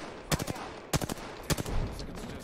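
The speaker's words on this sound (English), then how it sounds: "I hear gunshots." Three sharp video game gunshots ring out about half a second apart, slightly distant, with faint background noise between them.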